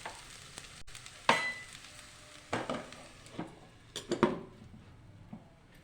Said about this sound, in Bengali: আমি এবারে বন্ধ করে চাপা দিয়ে দেবো।